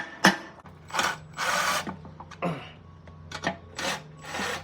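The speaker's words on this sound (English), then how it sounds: "I guess we gotta whack it with a hammer" A hammer knocks a Mazda Miata oil pan into position during installation, several separate sharp strikes and scraping knocks at an irregular pace, close and fairly loud.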